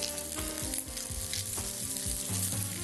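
Food sizzles steadily in a hot pan during a quick Algerian home-cooking session, with a loud continuous crackle and occasional stirring scrapes and no talk.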